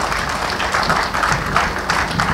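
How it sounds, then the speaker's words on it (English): Steady audience applause for the Right Honourable Speaker at a formal Nigerian public gathering, dense continuous clapping from a crowd that holds at an even level throughout. "I'd like that we make that applause for the Right Honourable Speaker"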